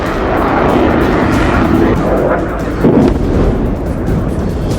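Rafale fighter jet flying, a loud continuous roaring engine rumble that swells slightly partway through, with no speech.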